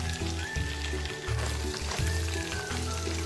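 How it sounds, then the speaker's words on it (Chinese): Shiitake mushrooms stir-fry in a hot wok beside browned pork and dried shrimp for fried rice, giving a steady, close sizzle throughout with a faint musical tone running underneath. "再倒入香菇爆炒，"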